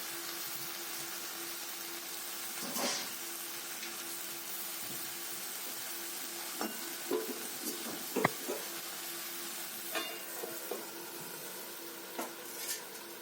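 Malabar spinach cooks with potato and pumpkin in a covered pan, giving a steady, faint sizzle and simmer with a few soft clicks and knocks from the pan.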